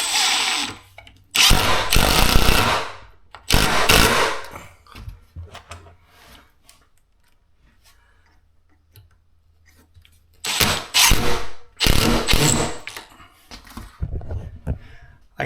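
Power drill driving screws into a closet door during a holiday home build, with several loud whirring bursts of varying length separated by quiet pauses, heard up close.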